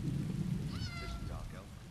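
A cat meows in The Elder Scrolls Online, one drawn-out rising and falling meow followed by a shorter second call, heard over a low rumbling game ambience.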